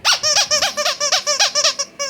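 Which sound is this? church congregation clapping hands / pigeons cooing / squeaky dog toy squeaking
squeaky dog toy squeaking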